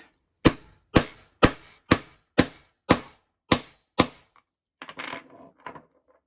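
A DIY tool taps a binder mechanism into place, giving eight sharp, evenly spaced knocks, loud and close. After them comes a brief scrape and rustle.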